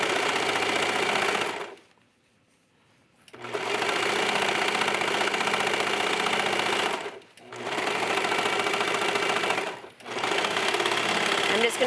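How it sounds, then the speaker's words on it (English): A serger stitches a pleat on a sports bra in long loud whirring bursts, stopping briefly twice between runs. "I'm just going to serge off."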